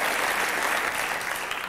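A French television studio audience applauds the parents during a mock baccalaureate quiz show, a brief, full burst of clapping that stays loud and even before tailing off slightly.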